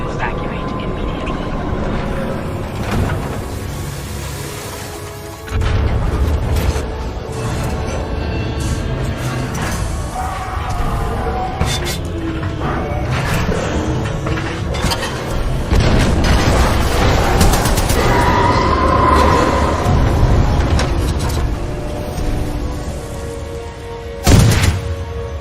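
Loud, dense explosions from the video game Titanfall 2 rumble through the whole stretch, with a sharp jump in level near the middle and a sudden heavy blast close to the end, layered over a steady low roar.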